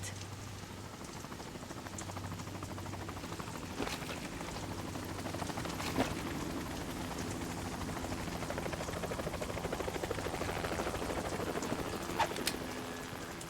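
A helicopter in Metal Gear Solid 2 drones steadily, its rotor thrum building gradually with scattered faint clicks and knocks in the mix.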